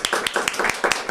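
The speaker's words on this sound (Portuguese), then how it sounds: "Palmas, estúdio!" A studio audience claps in a brief burst, with sharp, irregular hand claps close and loud across the whole moment.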